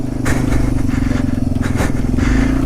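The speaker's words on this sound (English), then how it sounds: "It's a good thing these bikes are tough because I'm revving the piss out of it." A Yamaha TW200 dirt bike revved hard while stuck in a foot of deep snow near a hilltop, a loud, steady, low engine roar that stays near and continuous throughout.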